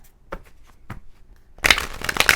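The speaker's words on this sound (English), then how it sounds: "one more shuffle." A quick burst of card shuffling: a dense, crisp riffle of flapping paper starting after soft handling noises, close and loud.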